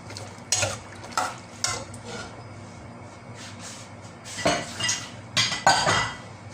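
Thai green curry with pork and pea eggplants being stirred in a pot, with a gentle simmer and sizzle under repeated scraping and clinking of a utensil against the metal, in bursts separated by quieter pauses.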